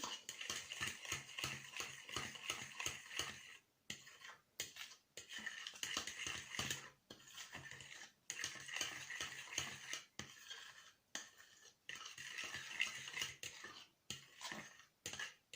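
A utensil scrapes and clinks against a bowl while stirring diet cupcake batter with coconut flakes, in steady rhythmic bursts with brief pauses, close up and fairly quiet.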